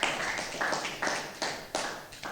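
A church congregation claps in praise to acclaim the Lord: a run of loud, fairly even hand claps landing about twice a second, close and full, with a faint voice beneath.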